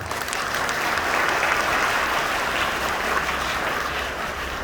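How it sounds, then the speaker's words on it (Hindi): A large crowd applauds steadily, a dense sustained wash of clapping that stays loud and even throughout. "एक बार जोरदार तालियां हो जाए।"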